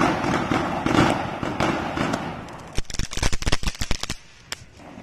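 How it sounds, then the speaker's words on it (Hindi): A sky shot firework is lit and fires, a hissing fuse giving way to a rapid volley of sharp cracking bursts and pops, fairly close and loud. "स्काई फोर्स वाली है, स्काई शॉट को जला के देखते हैं कैसा चलता है।"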